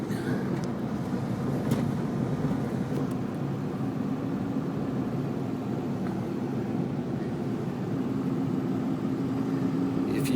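2002 Ford F350 7.3 diesel crew-cab 4x4 with manual transmission driving straight down a road, a low steady drivetrain and road rumble heard from inside, moderately quiet and continuous.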